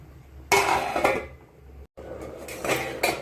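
A metal lid set down on a pot of egg curry with fried eggs, giving a sharp clatter of metal on metal, then a brief gap and a second lighter rattle as the lid settles, close and alone.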